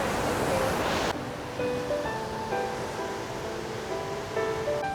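Rushing waterfall water in Banff National Park, Canada: a loud, dense roar for about a second, then a steadier, softer wash continuing beneath tonal music for the rest of the clip.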